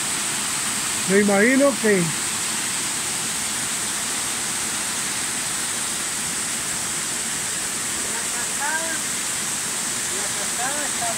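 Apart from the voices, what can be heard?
water flowing down a waterfall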